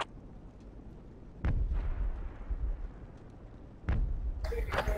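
A tank blows up in the Project Reality video game: two heavy, booming blasts a couple of seconds apart, each trailing into a low rumble over steady background battle noise.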